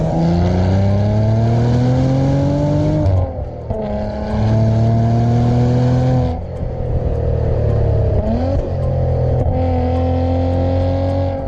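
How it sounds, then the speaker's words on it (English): Maserati Ghibli S with a Ferrari-developed V6 and sports exhaust engaged, revving loudly up through several gears, each rising pull broken by brief shift pauses, heard close with no speech. "the Ferrari-developed V6s have an orchestral sound, especially with the sports exhaust engaged"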